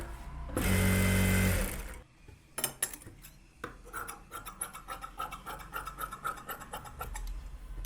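A sewing machine stitches a blouse lining in one loud, steady whirring burst of about a second and a half, followed by quieter scraping and handling noises of fabric work.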